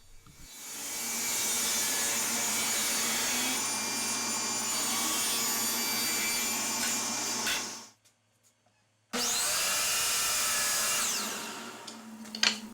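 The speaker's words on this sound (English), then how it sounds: "moved over to the miter saw to cut them to final length" A miter saw cuts wooden pieces to final length, making a loud, steady whine while it bites through the wood. There are two long cuts at close range separated by a short silence, and the second one ends with a clunk.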